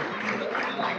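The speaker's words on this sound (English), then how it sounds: "So everyone, if we can please join us in another round of applause." Applause from a board meeting audience, a short burst of dense, steady clapping filling the room at moderate volume.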